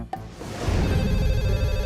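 A telephone rings with a bright, sustained bell tone that starts after a brief click and grows louder, close and alone without talk.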